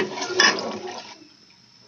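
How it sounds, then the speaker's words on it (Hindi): A jug of water pours into fried masoor dal in a cooking pot with a loud gushing splash that swells briefly and then tapers into a quieter trickle before a final burst of sound. "ਹੁਣ ਅਸਾਂ ਇਹਦੇ ਵਿੱਚ ਪੂਰਾ ਇੱਕ ਜੱਗ ਪਾਣੀ ਦਾ ਪਾ ਦੇਸੋ ਤਾਂ ਕਿ ਇਹਦਾ ਜ਼ਾਇਕਾ ਵੀ ਨਿਕਲ ਆਵੇ"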